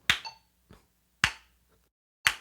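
Three sharp hand claps spaced about a second apart, each preceded or followed by a fainter tick like a metronome click, in a music rhythm exercise keeping steady time with a click track.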